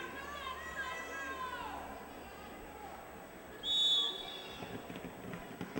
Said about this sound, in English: On the whistle, Ella Trick immediately starts bulldozing through the center